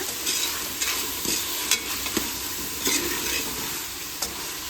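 Tomatoes fry in a pan for a pressure-cooker chicken biryani, a continuous hissing sizzle broken by occasional scrapes and light clinks as the mixture is stirred, with no voices.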